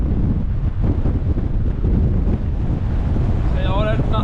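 Strong wind buffets the microphone on the hilltop at Little Cowdock in the Stretton hills, a loud, low roaring rumble throughout, with a brief whistling tone near the end.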